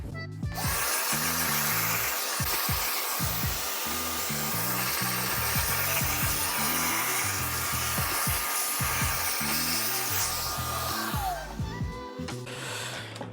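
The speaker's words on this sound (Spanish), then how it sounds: "vamos a pasar la aspiradora con un cepillo para quitar todo el polvo superficial" Vacuum cleaner with a brush attachment runs continuously while dusting the cooler of an XFX RX 7900 XT graphics card, a steady loud whine with repeated rubbing and scraping strokes as the brush works over the fins.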